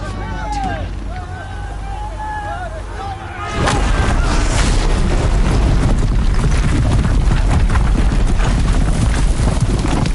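Big guns in the video game Horizon Zero Dawn open fire: after a few seconds of quieter ambience with chirping tones, a loud, sustained barrage of rapid heavy blasts erupts and keeps pounding to the end.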